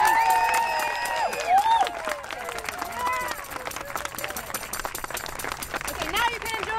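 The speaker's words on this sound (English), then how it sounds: "So just a big round of applause for Quinn" Audience at a high school Shakespeare production clapping for the director, scattered applause and cheers mixed with crowd chatter and voices, fairly close and moderately loud, uneven in density.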